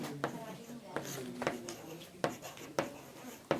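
Chalk or marker strokes on a classroom board come as a series of short scratchy taps and swipes under a man's speech explaining a maths problem.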